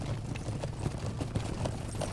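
Horses' hooves clopping in the online game The Lord of the Rings Online during a New Year's party, a steady run of soft, fairly close hoof clops over a low background hum.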